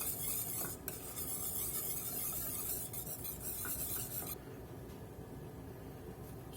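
Parmesan stirred into a thick garlic cheese sauce with tarragon gives a steady, close scraping and swishing over a constant hiss, easing slightly toward the end.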